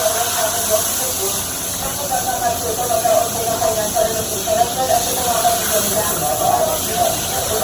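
Tempura sizzles in hot oil over high heat, a loud, constant hiss with crackling pops throughout and no pauses.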